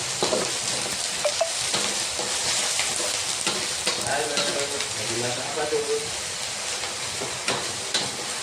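Stuffed tofu filled with yellow noodles frying in hot oil, a steady loud crackling sizzle throughout with occasional stirring scrapes, while soft voices murmur faintly underneath.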